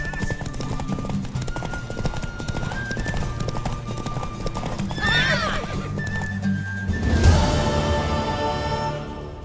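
Horse hooves clip-clop steadily in the Witcher 3 fantasy game, then a loud neigh rises near the end. Background game music plays throughout, with brief voices at moments.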